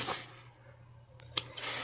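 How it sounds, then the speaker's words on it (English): Scissors snipping sewing threads on a fabric book sleeve: two or three quick, close, crisp snips in a quiet room after a soft rustle. "Cut off our threads there."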